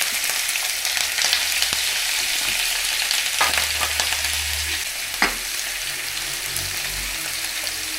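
Chicken pieces frying in a pan, a loud, steady hiss and crackle of hot oil with a few scraping stirs and clinks, no talking.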